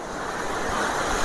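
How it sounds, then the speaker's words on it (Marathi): A jungle waterfall rushes in a steady, dense roar of falling water that holds an even level throughout, with no voices over it. "बघू शकतात गाईस धबधबा, वॉटरफॉल."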